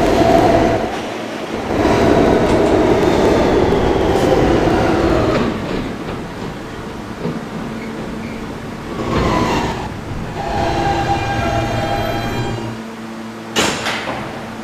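NYC subway E train made up of Kawasaki R160 cars, rolling loud and close with a steady rumble, rail clatter and bursts of hiss, then a door sound near the end.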